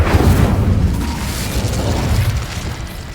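An Incendio fire spell cast in Hogwarts Legacy bursts out as a loud, low whooshing boom at once and then settles into a rumbling, roaring rush of flame that fades slowly.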